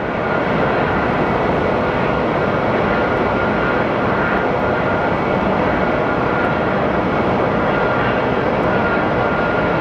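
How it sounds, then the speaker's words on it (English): A Southwest airliner arriving from Cabo at Phoenix Sky Harbor Airport roars steadily and loudly throughout, a broad continuous engine rumble with no break and no talk. "Okay, our Southwest from Cabo is coming in next."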